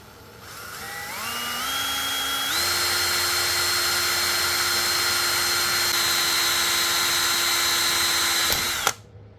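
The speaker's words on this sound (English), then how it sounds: "So now I'm going to drill a hole right here," A power drill with a 3 millimetre bit whines steadily, its pitch stepping up as it spins to full speed, then cuts off abruptly near the end.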